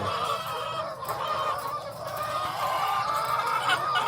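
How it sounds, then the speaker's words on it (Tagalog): A flock of around 181 layer chickens in a screened poultry house, a dense continuous chorus of clucking and murmuring hens, close and steady with no voices. "So yung mga alaga nating layer chicken ay nasa ano na lang to guys, nasa 181 piraso na manok"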